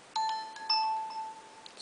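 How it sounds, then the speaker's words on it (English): Bright chiming ringtone from a Nokia Lumia 625 smartphone: a few clear, sustained bell-like notes ring out with a soft attack and a slow fade, played alone with no talking. "today I'm showing you the ringtones on it"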